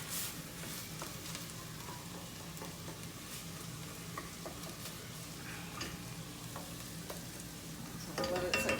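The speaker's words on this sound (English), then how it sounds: "And completely brown the meat. And this continues to cook the onion." Ground meat and onions browning together in a pan for chili give a steady, moderately quiet sizzle with scattered crackles and pops throughout, growing a bit louder near the end.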